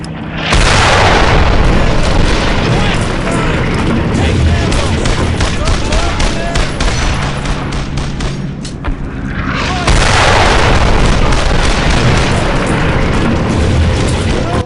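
Loud, continuous battle noise from the video game Brothers in Arms, with booming explosions and rumbling blasts that swell again near the end.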